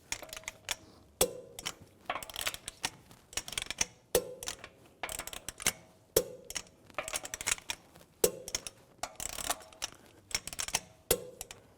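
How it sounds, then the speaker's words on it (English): A torque wrench ratchets lug bolts tight on a BMW X3 wheel, crisp rapid clicking bursts repeating roughly every second or two with brief pauses, close and clear with no talk. "Now I'm going to torque these lug bolts to 110 foot-pounds in a cross pattern to tighten the wheel down evenly."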